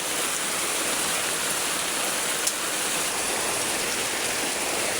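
Floodwater surging hard during typhoon rain, a loud continuous wash of rushing water and downpour, steady from start to finish, with one faint tick midway and no talk.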